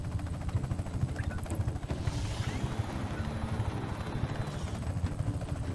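A helicopter flies in the video game Just Cause 3, with a dense, steady rotor and engine drone and rhythmic low thumping throughout, loud and continuous, with a brief higher whine partway through.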